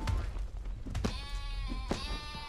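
A sheep in the block-building game SkySaga bleats in a wavering, drawn-out call, with a soft thud or two nearby.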